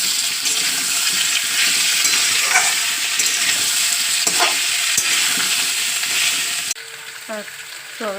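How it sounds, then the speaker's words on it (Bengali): Potato pieces and soybean chunks fry together in a pan, giving a loud, continuous sizzle with stirring scrapes that drops to a quieter level near the end. "আলুটা দেখছি অনেকটাই ভাজা হয়ে গেছে, আমি সোয়াবিনটাও ভেজে নেব সঙ্গে"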